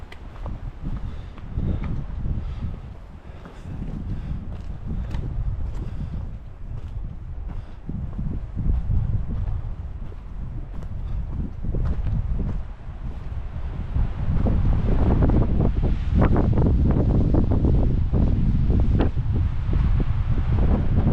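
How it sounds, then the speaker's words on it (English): Strong wind roars continuously in the backcountry while brook trout fishing in fall, with heavy buffeting against the microphone, rising louder and harsher in the second half, with a low rumble throughout. "the wind was absolutely howling"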